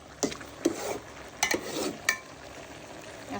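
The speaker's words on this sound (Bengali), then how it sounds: "লাউটা আমি কষিয়ে নিলাম।" Pieces of bottle gourd stir-fried in a pan with green chillies, a few separate scrapes and clinks of a spatula over a soft, quiet sizzle.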